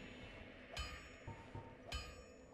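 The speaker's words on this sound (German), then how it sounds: "Sag mal, wer hämmert hier eigentlich die ganze Zeit?" A blacksmith hammers metal in the Dark Souls video game: two clear metallic clangs about a second apart, with fainter taps between, distant and quiet over low ambient game noise.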